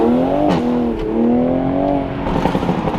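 A 2020 Toyota Supra engine revs loudly and close, its pitch rising, dipping and climbing again through a continuous mechanical roar.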